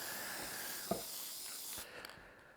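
Aerosol spray can hissing onto a motorcycle during a home service, a steady close spray that runs continuously and then cuts off near the end, with no voices.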